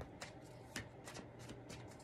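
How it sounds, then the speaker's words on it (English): Repeated crisp riffling bursts of tarot cards being shuffled, close and fairly quiet, several quick flutters in a row. "One more shuffle."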